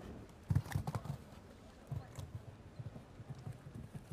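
A horse's hooves pound the arena in a show jumping speed round at Aix-la-Chapelle, with a rhythmic series of soft, fairly quiet thuds and clip-clops and a few stronger strikes near the start.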